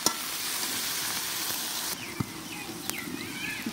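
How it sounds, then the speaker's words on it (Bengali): Ripe jujube plums are stirred in a hot pan for a sweet-sour pickle, with a continuous sizzle and occasional light scraping and knocking of the stirring spoon, no voices. "তারপর আমি পাকা বড়ইগুলো দিয়ে দেব। দিয়ে হালকা একটু নাড়াচাড়া দিয়ে দেব।"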